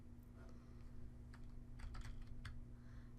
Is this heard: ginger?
no